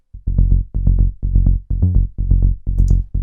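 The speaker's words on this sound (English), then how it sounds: "There's a bass line." A punchy synthesizer bass line from a Microfreak plays a rhythmic minimal techno sequence of short, deep notes, loud and upfront with no other instruments.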